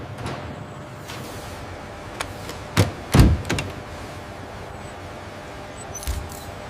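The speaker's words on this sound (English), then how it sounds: "Sealing doors." Heavy doors sealing shut in a venom extraction factory producing banded krait neurotoxin: a few sharp mechanical thunks and clanks in the middle, one stronger double impact, then a softer knock later over a low hum.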